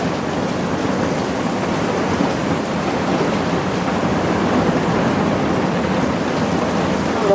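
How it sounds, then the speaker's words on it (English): Steady, loud rain pours down as a dense wash of noise, with low rumbles of distant thunder blending underneath throughout. "I don't know that we needed rain."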